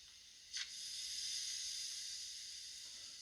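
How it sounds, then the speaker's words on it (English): A faint, steady brake hiss of air from the sound unit of a Rapido Trains Port of Par Bagnall model steam locomotive, with a tiny click just before, soft and close with no talking. "We've got number two, which is the brake."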